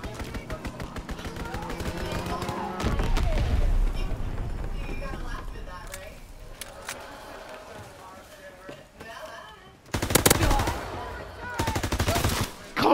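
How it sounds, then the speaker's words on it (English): Machine-gun fire from an aircraft strafing run in Call of Duty: WWII, with loud bursts and heavy rattling gunfire among battlefield noise, while players talk over it. "Enemy strafing run inbound."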